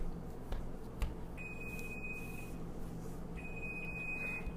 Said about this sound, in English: then your oven timer goes off.